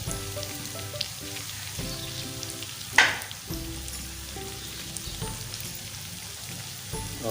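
Potatoes and eggs for aloo anday ki pharji fry with spices in a pan, giving a steady low sizzle with one brief louder hiss burst, no voices.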